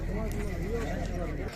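Horses at a livestock horse market in Sokuluk, with clip-clopping hooves and a neighing whinny amid the background chatter of a busy crowd.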